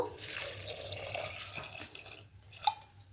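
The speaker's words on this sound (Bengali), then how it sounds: "এবার জল অ্যাড করব" Water is poured into a cooking pan for vegetarian ghugni, a soft splashing trickle with a few drips, fairly faint and alone.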